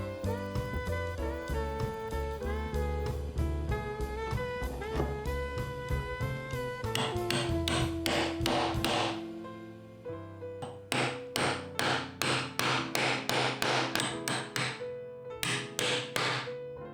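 Repeated hammer blows drive a hexagonal bolt head into a chiseled wooden recess, with sharp, evenly spaced close strikes, a short pause, then another rapid series of loud taps.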